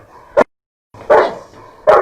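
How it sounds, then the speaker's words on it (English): A police sniffer dog gives three sharp barks, the first short, then a fuller pair about a second apart, loud and close, with a brief silent gap early on. "Police officer with a dog."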